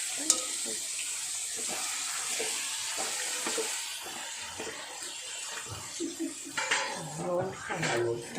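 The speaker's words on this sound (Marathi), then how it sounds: "इथे हा गावठी कोंबडा मटण टाकलेला आहे आपण असं मिक्स करून घेणार आहोत" Country chicken meat stirred and mixed in a hot pan, with a soft sizzle under repeated scraping and clinking of a spoon against the metal. The sounds are close and moderately quiet, and a voice joins near the end.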